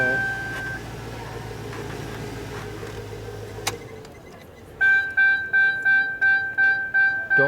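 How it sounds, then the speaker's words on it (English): Car engine cranking, driven by an EGWO 6000A jump starter, a continuous churning crank that stops abruptly, followed by a rhythmic series of repeated electronic beeps or chimes. "this thing just keeps cranking, cranking, cranking"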